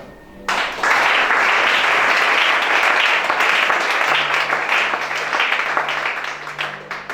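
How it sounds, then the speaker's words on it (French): A congregation at a deliverance church service bursts into loud, sustained applause that holds steady for several seconds before easing slightly, with a faint low tone running underneath. "Acclame chacun."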